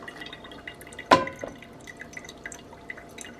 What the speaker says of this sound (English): For coffee this morning, I decided I wanted a pour over.